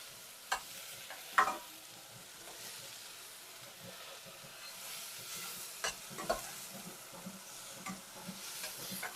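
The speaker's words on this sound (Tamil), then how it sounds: "வெங்காயம் கொஞ்சம் பொன்னிறமாக வதங்கிட்டுது" Onion sautés with garlic, ginger and pepper in a pan for Sri Lankan chicken potato rotti, giving a soft continuous sizzle with occasional sharper stirring scrapes and clicks, close but fairly quiet.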